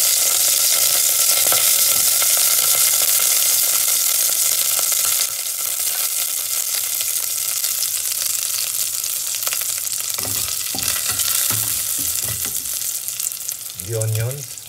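Garlic fries in a pan for Zamboanga-style pork dinuguan, a loud, steady sizzle with occasional stirring scrapes, growing busier toward the end and closing with a few sharper clatters.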